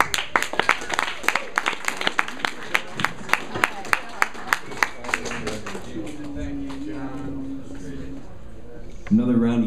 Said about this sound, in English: Another round of applause for Philosophical.